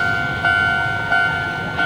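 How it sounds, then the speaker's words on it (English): A tram rumbles close by on a street in Sugamo, Tokyo, with a steady tonal whine, punctuated by three evenly spaced clunks as wheels cross rail joints. "Seems like the tram's really frequent."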